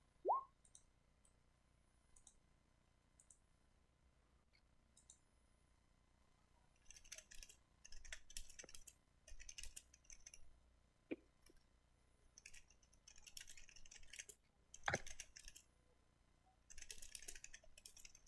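Quiet computer keyboard typing in short furious bursts separated by pauses, with a few sharper isolated clicks, faint and close in an otherwise still room.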